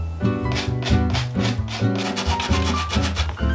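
Rhythmic back-and-forth sanding strokes on a wall, rasping in quick repeated passes under a bed of music.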